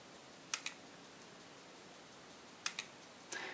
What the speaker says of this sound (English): mechanical shutter, the camera sounds like this.